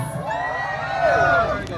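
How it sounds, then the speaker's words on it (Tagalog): A crowd of people from Davao shouting and cheering together, a sustained roar of raised voices with whoops rising and falling, loud and close throughout. "Sigawan po sa mga taga-Davao."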